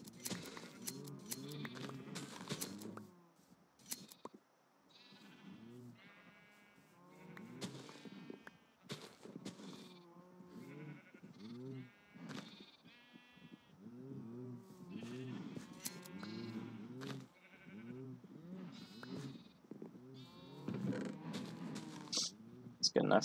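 Cattle mooing in a farming video game, several drawn-out moos repeating and overlapping across the scene, alongside other game sounds.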